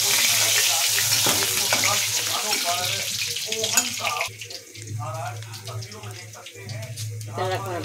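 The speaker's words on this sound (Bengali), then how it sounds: "সব মাছ ভাজা হয়ে গেছে, ইলিশ মাছ" Hilsa fish frying in hot oil in a home kitchen, a steady loud sizzle with stirring that runs the whole way under continuous talking.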